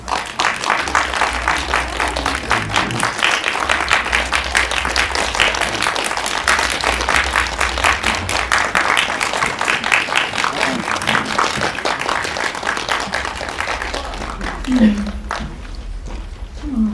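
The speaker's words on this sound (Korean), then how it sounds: "뜨거운 박수로 맞춰주시기 바랍니다" An audience claps warmly to welcome a film director and actors, steady dense applause running for over ten seconds before it thins out, with a few voices and shuffling near the end.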